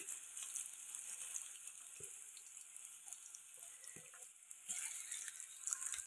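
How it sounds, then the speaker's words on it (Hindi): Cabbage and onion pakoda batter frying in hot oil over a low flame, a soft continuous sizzle with scattered crackles and occasional small pops, fairly faint and close. "इसी तरीके से सारे मिक्सचर को हम तेल पे दे देंगे"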